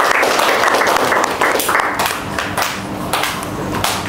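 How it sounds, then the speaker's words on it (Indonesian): Applause for a group of lecturers in a training session, a steady wash of many people clapping together, fairly loud and continuous with slight swells, no speech over it. "Oke, tepuk tangan untuk teman di kelompok 2."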